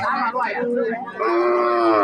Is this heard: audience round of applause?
no